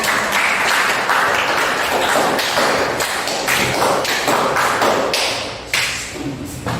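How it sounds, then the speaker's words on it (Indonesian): A group claps hands steadily for several seconds, a dense, continuous round of applause with no voices. "Kasih tepuk tangan dulu, kasih tepuk tangan"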